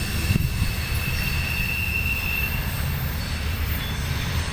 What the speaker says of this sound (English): That was Loaded Corn Train CSX G622.